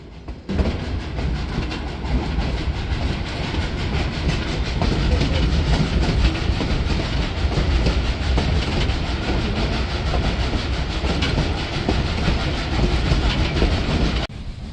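A steam train on the Cumbres & Toltec railroad rumbles steadily along the tracks with continuous rhythmic clatter of wheels on rails, loud and close throughout, with no voices.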